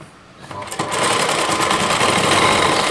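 A sewing machine runs steadily, stitching a heavy-work Rajputi lehenga; the motor starts up softly, then holds a loud, even, continuous whir close by.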